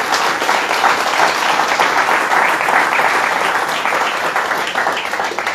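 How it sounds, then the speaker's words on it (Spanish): Loud, sustained crowd applause for the FIDEM, a dense, even roar of many hands clapping that holds steady from start to finish. "les pido un aplauso fuerte para el FIDEM"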